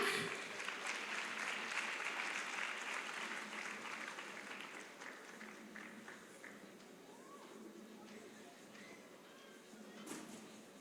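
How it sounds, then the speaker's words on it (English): An event crowd at a foundation gala claps loudly at first, and the applause gradually thins and fades to scattered claps, with a brief burst near the end and some voices underneath. "let's do a better round of applause"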